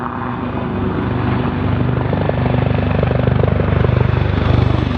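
A Bell UH-1Y Venom military utility helicopter drones loudly and steadily overhead, its rotor producing a rapid rhythmic thumping beneath a broad engine roar.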